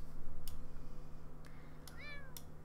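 A cat meows in The Sims 4, one rising-and-falling call near the end over a low steady hum, with a few brief clicks before it.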